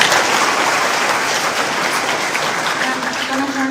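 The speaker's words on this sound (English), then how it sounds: "round of applause for our panel" Loud, dense applause from a business event audience for a panel, sustained throughout and close, with a faint voice or tone emerging near the end.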